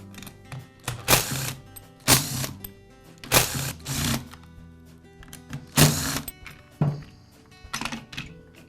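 Screws being driven out of the starter assembly on a Poulan chainsaw make repeated bursts of a whirring power screwdriver, each a second or less, with clicks and small clunks of parts between them.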